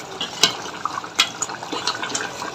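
Beef mixed with fried onions and cumin is stirred in a pan with wet, squelching sloshes and light scraping. It is close and moderately loud, with no talk.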